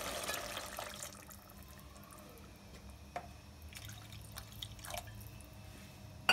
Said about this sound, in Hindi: 2 कप पानी ऐड कर देंगे